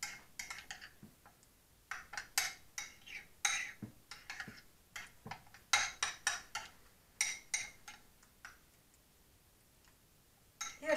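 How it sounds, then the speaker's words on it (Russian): A utensil clinks and taps against a bowl as gelatin is stirred with cold water, coming in quick irregular bursts separated by short pauses, close up and fairly quiet. "Хорошенечко размешали."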